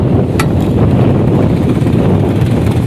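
Steady wind buffeting the microphone, a loud continuous rumble with no voices.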